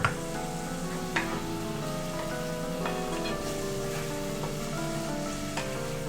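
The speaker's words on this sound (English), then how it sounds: "do you not get to enjoy that simmering sound?" Pizza sauce with a splash of wine simmers in a pan, giving a steady soft bubbling sizzle with occasional small pops, fairly faint and close throughout.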